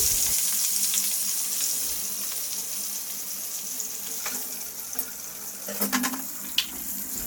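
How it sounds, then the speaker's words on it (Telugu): Green chillies and curry leaves fry in hot oil for prawn pakodi, a steady sizzle with brief sputters and crackles near the end, close and unbroken. "ఇప్పుడు ఇందులోనే పచ్చిమిర్చి కలమాకును వేసి వేయించుకోవాలి."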